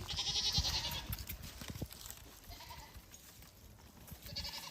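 Nigerian Dwarf goats on a homestead bleat in short, fairly loud calls at the start and again near the end, with farmyard noise in between.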